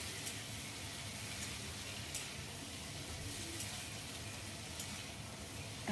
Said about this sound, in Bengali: মাছগুলো আমি ওর মধ্যে দিয়ে দেবো, দিয়ে একটু কষিয়ে নেব